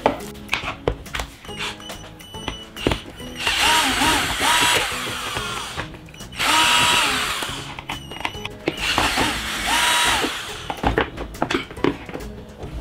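A power driver backs out three screws from a Xenon CDBL1845 18V cordless handheld blower, giving three loud whirring bursts of a few seconds each, separated by clicks and handling knocks.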